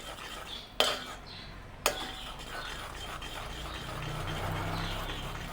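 A spoon stirs a drop of food colouring into a corn snack mixture in a bowl, giving a soft continuous scraping after two sharp clinks of metal on the bowl, close and fairly quiet.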